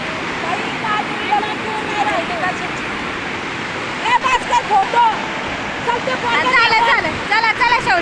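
Steady broadband rush of flowing water at Lavasa fills the scene continuously; partway through, people start talking over the constant wash of the water.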